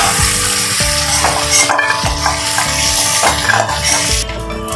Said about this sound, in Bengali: চিংড়ি মাছটা আমার হালকা করে ভাজা হয়ে গেছে,